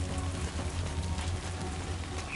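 Steady rainfall in the video game Death Stranding 2, a dense continuous hiss of drops over a low rumble, even and fairly loud throughout with no talking.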